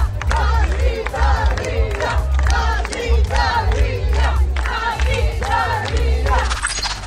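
Concert audience at the Documenta 15 festival in Germany shouting and cheering loudly in rhythmic bursts, a dense crowd roar with repeated chanted calls over a low rumbling backdrop.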